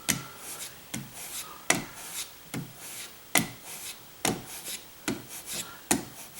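A steel chisel is drawn back along a sharpening stone in about eight to nine evenly spaced gritty rasping strokes, each a short scrape that fades before the next, close and fairly quiet.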